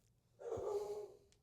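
A dog barks once or twice in the background, a single muffled woof-like burst followed by a breathy trailing sound, faint and alone in a quiet room.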